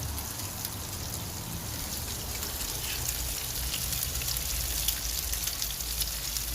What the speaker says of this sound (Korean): 밖에 비 오는 것 같은데?